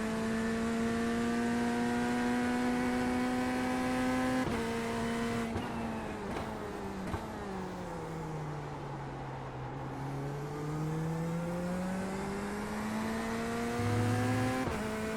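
A prototype race car laps Daytona in an iRacing IMSA event, its engine note loud and continuous, pitch dropping and climbing again through gear shifts and corners, with brief tire squeal and no talk.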